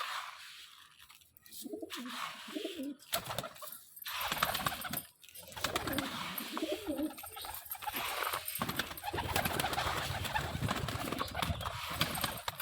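Caged pigeons, some sitting on eggs, coo softly amid faint rustling and clattering in a busy morning setting, with soft murmurs of talk in the background.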